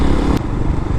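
A 2023 Hawk-X 250 motorcycle engine drones loudly and close up while riding on mixed roads, a steady heavy rumble with a brief shift in tone partway through.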